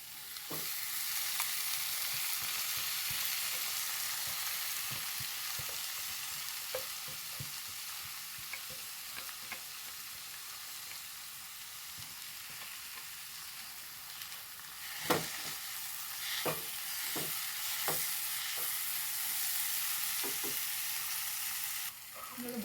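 Chopped tomatoes frying in a spiced masala for chana masala, giving a steady close sizzle with intermittent scraping and clacking as a spoon stirs the pan.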